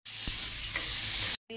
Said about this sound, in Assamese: এয়া কান্দুলি মাছ ভাজি আছোঁ